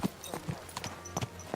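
Horse hooves clip-clop in Kingdom Come Deliverance 2, a quick irregular run of soft, faint hoofbeats close by.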